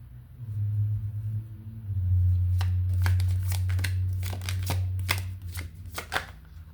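Tarot cards being shuffled up close, a run of crisp riffling snaps and flutters over a low steady hum, growing denser toward the end with no talking.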